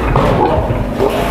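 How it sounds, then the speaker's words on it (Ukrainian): Water gushing from a tap as it starts to flow, a loud continuous splashing rush filling the whole moment close by. "Вода йде!"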